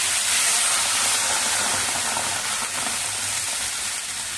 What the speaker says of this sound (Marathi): आता आपण वाटी भरून पाणी घालूया.